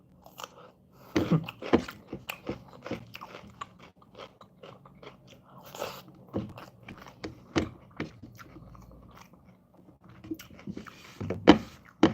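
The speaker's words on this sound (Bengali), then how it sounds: "খাবার খাচ্ছি" Someone eats dinner close to the mic with crunchy bites and wet chewing in an irregular rhythm, and a few louder crunches stand out against quiet surroundings.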